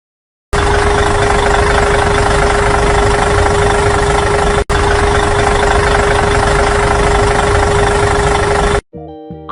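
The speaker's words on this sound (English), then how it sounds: "Tractor." A tractor engine runs steadily at close range with a strong low hum and a persistent mid-pitched tone, loud and unbroken for about eight seconds before cutting off abruptly.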